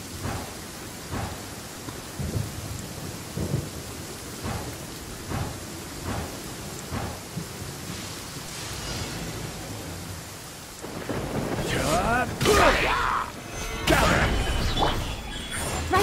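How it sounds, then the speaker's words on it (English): Rain and thunder in Genshin Impact during the Lantern Rite event: steady rainfall hisses beneath soft rumbles, then heavier downpour and louder, closer thunder cracks build toward the end. "Oh, it's raining."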